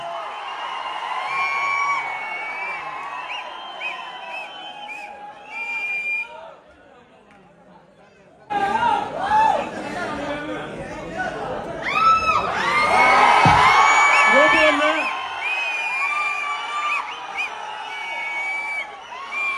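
A live audience at a Tamil film celebration stage event claps, whistles and cheers for guests coming up, a loud crowd roar swelling after an announcer speaks, with whoops and chatter throughout.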